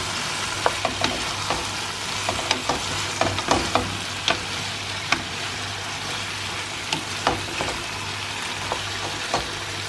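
Vegetables sizzle steadily in a hot pan, with scattered scraping clicks of a utensil stirring at an irregular pace.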